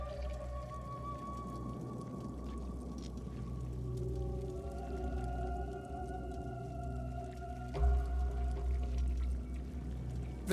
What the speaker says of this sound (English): The creature's whine turns to a roar.